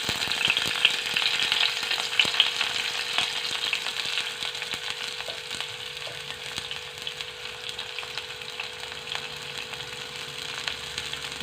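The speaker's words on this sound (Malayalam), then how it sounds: "ഉള്ളിയിട്ട് നല്ലോണം വഴറ്റിയിട്ട് കൊടുക്കാം." Onions frying in oil in a pan for a chicken dish, a crackling sizzle steady throughout with a faint low hum beneath, strongest early and easing slightly, close by and without speech.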